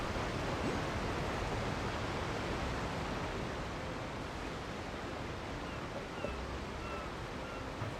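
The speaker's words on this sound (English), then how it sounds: "Damn, that waterfall's loud." Loud waterfall in the video game Genshin Impact, a constant broadband rushing roar of falling water filling the scene steadily from start to end with no speech.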